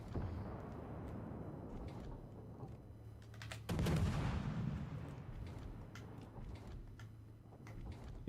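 Artillery fire booms in a video game battle, a heavy blast rising around the middle over a steady rumbling bed with scattered sharp reports, while faint radio-style chatter sits in the background.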